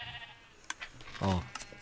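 A single short sheep bleat sounds in a video game, fairly clear against quiet background noise, with brief clicks around it.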